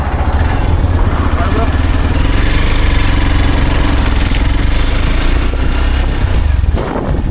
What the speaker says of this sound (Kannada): ಸೈಲೆನ್ಸರ್ ಪೈಪ್ ಯಾವ ಥರ ಸೌಂಡ್ ಬರುತ್ತೆ ಅಂತ